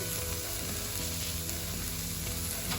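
Carrots sauté in a dry pan with no oil, giving a steady, close, loud sizzle with faint scraping throughout.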